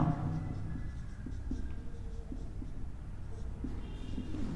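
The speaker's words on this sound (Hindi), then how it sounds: "मैं लिख रहा हूं ऐसी भौतिक राशियां" Chalk or marker writing on a board during a Hindi physics lecture, with steady scratching strokes and short taps up close, alongside faint background voice.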